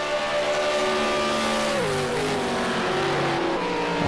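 V8 Supercar race car engine in a racing game on the Nurburgring, a loud steady near roar that drops in pitch as the car brakes, then climbs again as it accelerates.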